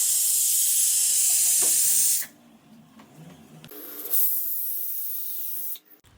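A pressure cooker cooking chicken curry lets off loud, steady steam hisses, one long burst followed by a brief lull and a second sustained release, all close by.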